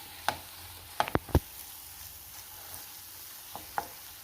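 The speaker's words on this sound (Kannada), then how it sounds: "ಮಸಾಲೆನ ಚೆನ್ನಾಗಿ ಒಂದು 5 ರಿಂದ 6 ನಿಮಿಷ ಫ್ರೈ ಮಾಡಬೇಕು" Masala for a fish fry cooks in a pan with a faint steady sizzle, broken by a few sharp clicks and knocks of a utensil against the pan.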